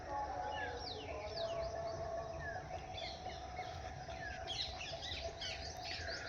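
Domestic pigeons, including a female hen pigeon with eggs, call amid a busy backdrop of other chirping birds, steady and fairly loud throughout with no talk.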